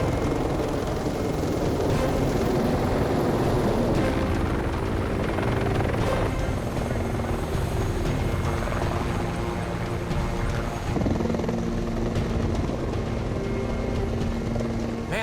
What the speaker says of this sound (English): Here comes the chopper.